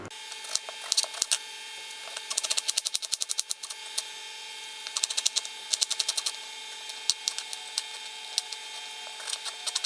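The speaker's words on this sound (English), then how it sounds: "I'm going to chop the onion" A knife chops an onion on a board for bhaji, crisp rapid taps in bursts, close and moderately loud with no talk.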